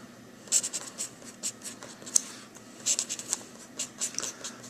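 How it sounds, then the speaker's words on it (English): A pen scratches across sheets of paper in short, irregular strokes, close and quiet, with small taps between the scribbles and no talking. "here's an attempt of writing on multiple pieces of paper"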